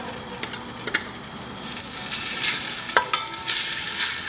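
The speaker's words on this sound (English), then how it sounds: "I'm going to be putting some olive oil, just a little, in my onions." Onions fry in a little olive oil in a Dutch oven, a close, steady sizzle broken by sharp scraping stirs, with no voices.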